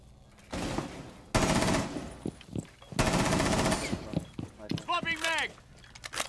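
Video game gunfire from a tactical shooter breaks out in two sustained automatic bursts, loud and close, with quieter shuffling and scattered impacts between them and a clattering tail near the end.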